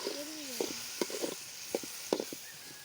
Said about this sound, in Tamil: இப்போ ஒரு 2 கொத்து கருவேப்பிலை போட்டுக்கலாம்.